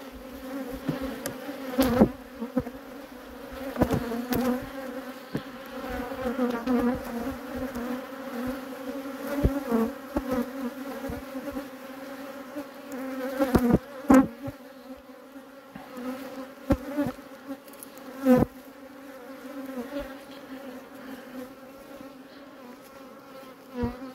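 Bees buzzing inside an opened beehive: a dense, steady drone that hums close by for the whole stretch, with scattered soft knocks and clicks from handling the hive and no talking.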